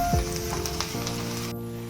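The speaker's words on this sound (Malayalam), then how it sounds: "ഒരു സവാള, സവാള ഒന്ന് മൂത്ത് വരട്ടെ." Onion frying in a pan, a steady close hiss and crackle of sizzling oil that continues evenly throughout, with a brief scrape near the start.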